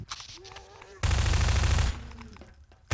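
Shotgun blasts of buckshot in Half-Life 2, a loud dense burst in the middle with quieter shots before and after, and voices talking over it.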